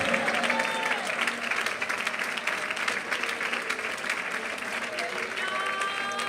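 An audience at a Malayalam Christian sermon claps in sustained, dense applause that stays loud and even throughout, with voices faintly audible under the clapping.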